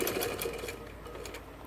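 Sewing machine stitching a kurta, a close steady mechanical whirr of rapid stitches that slows slightly partway through, with no speech.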